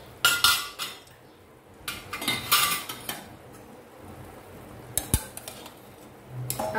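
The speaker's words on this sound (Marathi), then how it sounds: "आता छान याला मिक्स करून घेऊया." A metal spoon scrapes and clinks against a pan while cooked rice is stirred into a sweet coconut mixture for a festive coconut rice dish, giving a few irregular knocks and soft scraping between quiet pauses.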